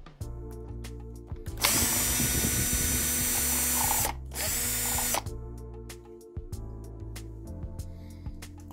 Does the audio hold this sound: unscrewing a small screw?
yes